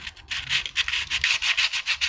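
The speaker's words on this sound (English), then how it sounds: "we are sanding all surfaces to be glued" Rhythmic hand sanding of surfaces to be glued on armor parts, a steady back-and-forth rasping of abrasive, repeated strokes close up with no voices.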